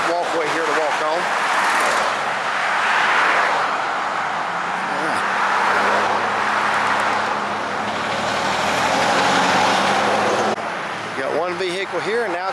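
Vehicles on a busy highway, heard from a concrete median walkway: a continuous roar of traffic with cars and trucks sweeping past, loud and near, while someone talks over it.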